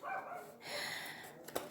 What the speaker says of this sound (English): My dogs are at it again.